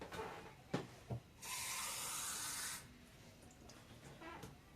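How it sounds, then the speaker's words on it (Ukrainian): Half a glass of water pours into a pot of pork fat, soy sauce and bay leaf in one steady, hissing stream lasting about a second, close by, with a couple of soft clinks before it. "вливаю сюди, і пів склянки звичайної води."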